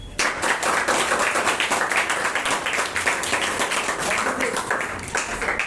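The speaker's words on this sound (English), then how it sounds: "Claps." Classroom of students clapping in steady, dense applause that holds loud and close throughout, celebrating a blue litmus paper acid test during a school science experiment.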